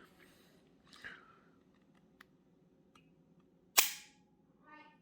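A Taurus TX-22 Competition pistol's trigger breaks with one sharp, crisp snap, preceded by a few faint clicks of handling and followed by a softer mechanical click, all close and without talk.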